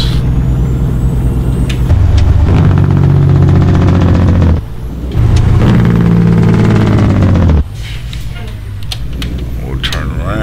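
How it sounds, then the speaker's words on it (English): A loud engine brake rattling in deep bursts as a truck slows in American Truck Simulator, cutting in and out twice over a constant engine drone. "let you hear the jake brake"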